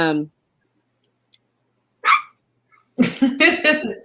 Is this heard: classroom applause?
no